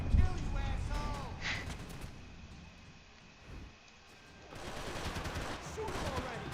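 Sustained automatic gunfire in the video game Max Payne 3, a steady rattling fusillade that dips briefly midway, then returns at moderate loudness, with voices and other game sounds mixed in.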